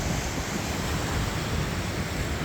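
Steady, loud surf and wind noise wash continuously at Durlston Bay as the tide comes in, with no distinct breaks between waves and no voices.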